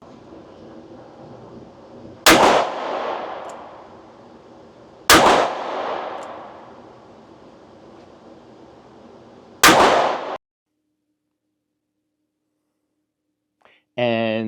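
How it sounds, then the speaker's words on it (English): A big revolver fires .38 Special rounds: three sharp, loud shots spaced a few seconds apart, each ringing out with a short echo, then a stretch of silence and a brief burst of sound at the end. "But here you can see what it's doing shooting 38 Special."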